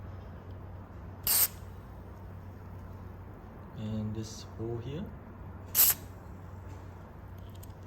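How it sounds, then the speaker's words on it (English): An aerosol being sprayed into a Shimano bike gear shifter to fix random shifting to the highest gears, in two sharp hissing bursts a few seconds apart, close by, while someone talks quietly between them. "it's good to spray in here as well"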